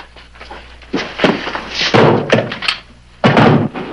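A trap door in a hideout basement is hauled open: several heavy wooden thunks and thuds close by, with a muffled rumble between them and a final loud bang near the end, with no talk over it.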